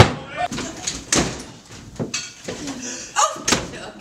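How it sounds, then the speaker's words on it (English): Doors slam shut around a house during a community theatre stage scene, several sharp bangs in a row spread across a few seconds, with voices talking throughout. "Nothing but clapping doors in this house."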